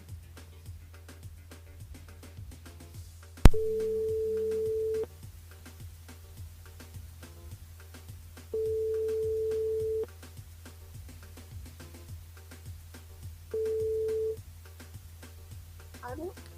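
A telephone call to a radio listener during a live French broadcast sounds as a steady electronic tone in three evenly spaced beeps of about a second and a half each, separated by quiet gaps.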